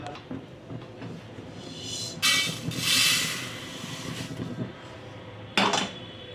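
Roasted sesame seeds being scraped from a pan onto a plate, with soft scraping and rustling, two brighter bursts of clattering metal, and a low steady background underneath, no voices.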